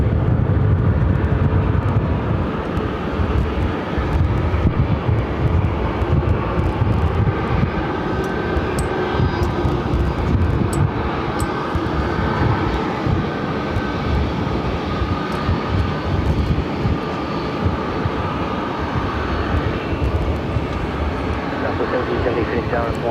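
Frontier Airlines Airbus A320 arriving at Phoenix Sky Harbor from San Diego, its engines producing a steady, loud broadband roar that holds for the whole stretch, with faint voices chatting underneath.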